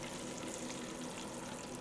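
Hot sweet mixture poured from a pot into a pan after the heat is turned off, giving a steady soft sizzling hiss that runs continuously and fairly quietly without a break.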